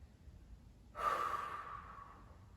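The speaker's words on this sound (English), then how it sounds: "Big deep breath." A single deep breath is taken during a seated upper-body yoga practice: a quiet pause, then a sudden, close, airy inhale that swells and slowly tapers away, with no talking over it.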